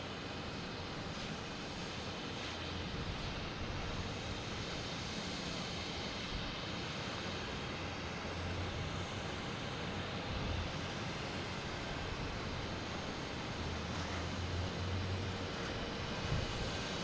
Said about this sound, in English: It's coming in from JFK, A320,